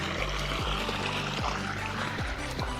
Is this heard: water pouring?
yes